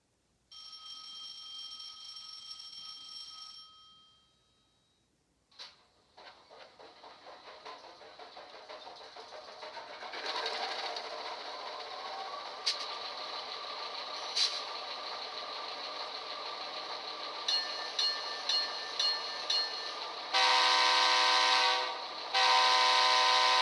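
A Soundtraxx DCC sound decoder in a model locomotive plays through a small speaker: a startup tone, then a steady diesel engine drone that rises, bell strikes, and a loud horn near the end.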